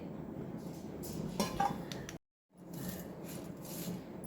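Whole spices dry-roasted without oil in a pan over a low flame give soft scraping and metallic clinks from stirring, broken by a brief silent gap before the stirring resumes.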